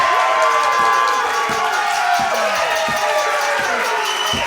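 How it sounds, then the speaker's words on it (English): A wrestling crowd in a Sevierville venue roars and cheers during a live show, a loud, dense wall of shouting that stays near and continuous. Dull thuds and slams break through it at intervals. "Listen to the roar of this crowd here in Sevierville, Carmen."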